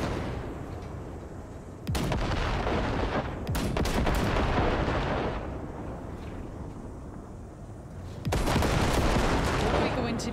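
Heavy weapon fire in Cyberpunk 2077, probably from a mounted gun on the Basilisk cargo ship, comes as loud booming bursts separated by steady rumbling stretches, with no voices.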